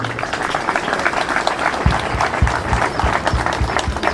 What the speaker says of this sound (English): Let's give them a big round of applause, please.